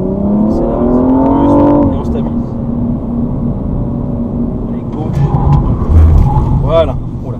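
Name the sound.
BMW M235i accelerating on circuit test track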